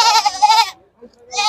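A goat bleats loudly and close by at a goat and sheep market in Ouricuri, Pernambuco, in a long wavering cry followed by a short pause and another bleat.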